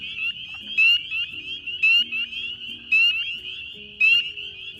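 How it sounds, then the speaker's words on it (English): Spring peeper frogs, a tiny but very loud species, call in a dense chorus of high, piercing peeps that overlap steadily. Lower trilling and croaking pulses from other frogs come in at regular intervals. "Spring peeper is a really tiny species of frog that has an insanely loud call."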